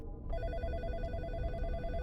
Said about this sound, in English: Phone calls.